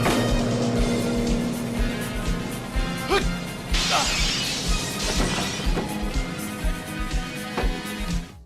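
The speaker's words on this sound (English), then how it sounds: "Then, Jackei jumps off the bus through a pane of prop glass." A loud crash of shattering prop glass as a stuntman jumps off a bus through a window, over a busy, rumbling vehicle and action soundtrack, with debris tinkling after the impact.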